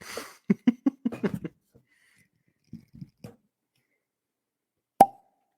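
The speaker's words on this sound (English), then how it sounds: "cork pop." A cork pops out of a bottle of bottled-in-bond bourbon with a single sharp, close pop near the end, after a few soft scattered rustles and murmurs.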